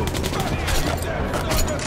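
Fast, loud gunfire from the video game Metro Last Light Redux, by a river, hammers in continuous overlapping bursts like automatic fire, close and dense, with some vocal sound mixed in.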